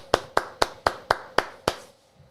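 Hands clap seven times in an even, steady rhythm, crisp and close, with no other sound around them before a quiet pause.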